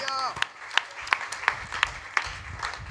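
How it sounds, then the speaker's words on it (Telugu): A congregation at a Christian worship service claps in praise. Sharp, evenly spaced claps keep a steady rhythm of about three per second, following a moment of voice at the start. "చప్పట్లు కొట్టి ప్రభుకి స్తోత్రం చెప్పండి"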